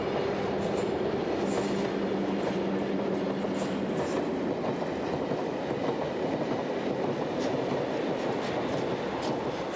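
A freight train rolls past on a Belgian railway branch line, a steady, loud rumble of wagons with faint wheel clatter and a low tonal hum that fades after a few seconds, with no voices.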